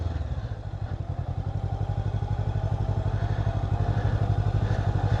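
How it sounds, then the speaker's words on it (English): Motorcycle engine revving while riding in Thailand, with a close, rapid pulsing idle and throttle sputter that stays steady and moderately loud throughout. "God, this thing revs up so easy"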